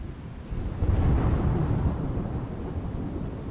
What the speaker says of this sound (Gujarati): ભરૂચમાં ગાજવીજ સાથે ભારે વરસાદ થયો